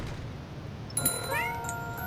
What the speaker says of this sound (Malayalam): പൂച്ച പിടിക്കാൻ പറ്റും തോന്നുന്നു.